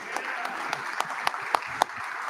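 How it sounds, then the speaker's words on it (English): Applause for the board president at an awards banquet comes as a thin, scattered patter of claps, with a few sharper individual claps standing out over a soft background murmur. "Let's give our board president a round of applause"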